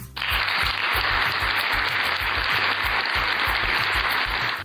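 A canned applause sound effect, a loud uniform burst of crowd clapping that starts abruptly and holds steady for several seconds over a faint rhythmic low backing beat, with no voices.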